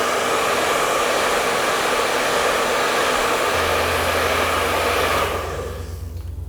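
A hair dryer blows loudly and steadily while drying watercolor paint, its broad airy roar dropping and fading as it switches off near the end.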